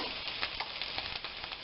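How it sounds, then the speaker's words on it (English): Crackling, popping sizzle of sausage-stuffed jalapenos frying in a hot pan, continuous and close, with bright spattering bursts and no voices. "I don't know if you can hear that sizzling, but oh, it sounds so good"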